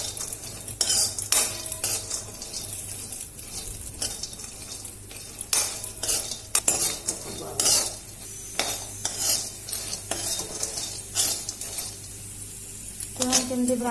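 Vermicelli roasting in ghee with steady scraping and stirring of a spoon against the pan, a soft sizzle underneath and scattered clinks of utensils, with brief speech in the background.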